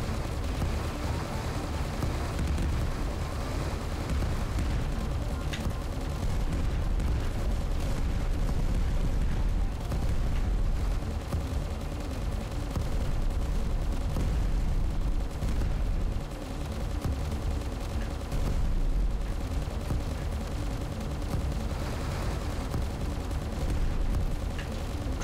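Poop bombs exploding in the video game Dogos: a steady, rumbling wash of explosions and gunfire-like blasts that runs loud throughout, with no clear pauses between the booms.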